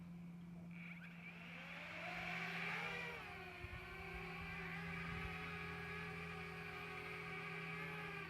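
Small Parrot Bebop drone motors spinning up at takeoff and flying: a steady, fairly faint whine that rises in pitch near the start and then holds under a constant low hum, with no talking.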